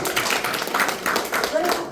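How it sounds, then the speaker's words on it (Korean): A lecture audience claps along in a dense, continuous patter of hands while a voice keeps speaking over it throughout. "맞으면 박수 쳐보세요"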